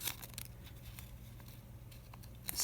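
Strips being cut about four inches long for a homemade paint pad handle, faint quiet snips and soft rustling over low background hum.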